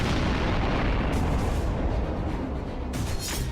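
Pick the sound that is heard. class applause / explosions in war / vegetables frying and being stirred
explosions in war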